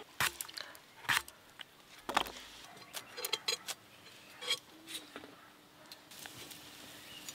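Bottle gourd greens being chopped with a knife, heard as sparse, sharp, fairly quiet taps at irregular intervals against a hushed room background.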